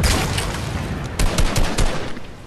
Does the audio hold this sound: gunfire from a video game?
yes